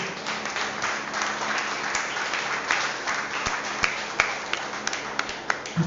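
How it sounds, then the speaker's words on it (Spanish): A church congregation gives a loud round of applause to God during a sermon, sustained crowd clapping with a few sharper individual claps standing out near the end. "Denle un fuerte aplauso a Dios"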